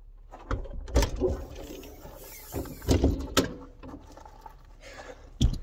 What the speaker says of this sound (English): I'll open up the door and then hopefully the light turns on automatically